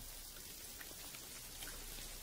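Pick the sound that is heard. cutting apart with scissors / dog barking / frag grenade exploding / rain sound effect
rain sound effect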